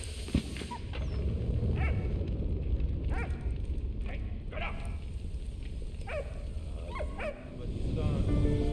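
Dog barking and yipping in a video game, repeated short yelps spread across the clip over a dense rumbling game soundscape, moderately loud and close.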